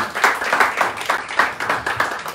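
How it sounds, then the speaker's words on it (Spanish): An audience at a Titanes 2022 press conference claps in a loose, pulsing rhythm, the bursts swelling and fading roughly twice a second at moderate loudness, without talk. "vamos a dar un fuerte aplauso a Héctor y a Jorge"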